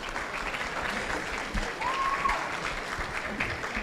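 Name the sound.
audience applause at a hackathon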